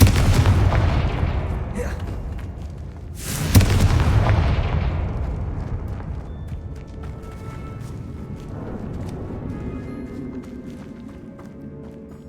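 Confringo fire spell blasts from Hogwarts Legacy: two heavy booming explosions, one at the start and a sharper one near the four-second mark, each with a long rumbling tail that fades over the following seconds.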